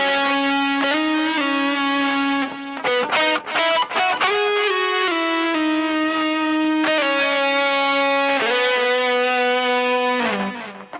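Electric guitar run through distortion and effects plays a sustained, singing melody, with quick note changes and slides near the middle and long held tones throughout, loud and alone.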